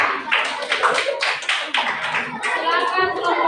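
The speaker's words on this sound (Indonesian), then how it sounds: "tepuk tangan untuk kelompok 3." A school class clapping for a group of students after their presentation, a few quick bursts of uneven hand claps close by, with children's voices mixed in.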